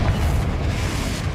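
The Confringo blast curse in the wizarding game Hogwarts Legacy explodes as a sustained, loud low-end boom with dense rumbling that fills the whole moment, with no talking.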